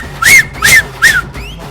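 A person whistles three short, bright rising-falling notes in even rhythm, loud and close, followed by a fainter fourth glide.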